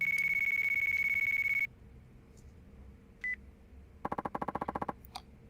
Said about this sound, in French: Petit coup de téléphone.